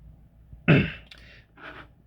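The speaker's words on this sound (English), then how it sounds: "gotta clear my throat" A person clears their throat once with a short, harsh burst, then gives a softer follow-up rasp, close to the microphone in a quiet room.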